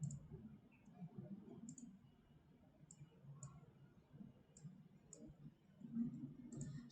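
Computer mouse clicks from someone working in AutoCAD, faint, sparse and irregular, spread through a quiet stretch over low background hum with no talking.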